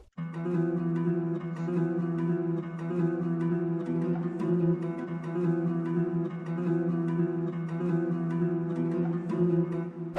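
A looping chopped sample melody in a four-bar loop, with steady sustained harmonic tones and regular rhythmic hits, continuous and even in loudness throughout, no voices.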